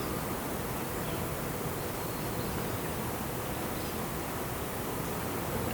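Honeybees at an opened hive during a brood and varroa inspection make a steady, dense drone that holds level for the whole stretch, close and even, with no talk over it.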